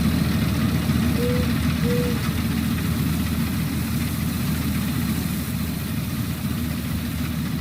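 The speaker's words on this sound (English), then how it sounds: "This is the FS19 tractor. Nice looking machine." A Farming Simulator 19 tractor engine idles steadily with a low continuous rumble, loud and close, with no other sounds over it.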